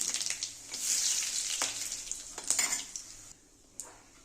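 Bay leaf and dried red chillies sizzle loudly in hot oil, a bright crackling hiss broken by metal utensil clinks against the pan, fading near the end with a last clink.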